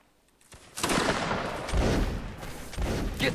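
Musket volleys crack out in a Napoleonic Wars video game line battle, a quiet lead-in then a dense, loud fusillade of overlapping shots with a few sharper bursts toward the end.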